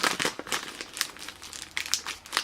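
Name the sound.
crinkling packaging of sticker sets being handled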